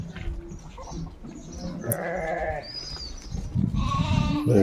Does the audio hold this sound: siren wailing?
no